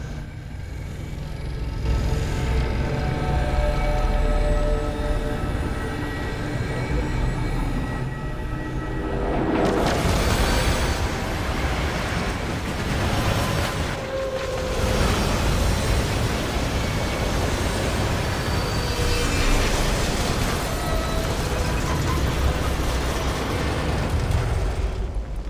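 A train rumbles past in the Destiny 2 video game, a loud sustained roar and clatter that swells and ebbs over about twenty-five seconds, with heavier surges partway through.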